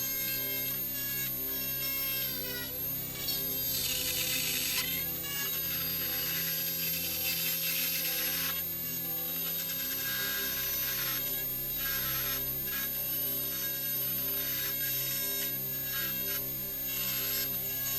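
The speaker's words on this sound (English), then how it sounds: "I used the edge of the smaller drill bit with my Dremel to create the desired shape" A Dremel rotary tool with a small drill bit shaping a steampunk arrow piece gives off a continuous high whine with grinding, rasping texture, running steadily and close throughout.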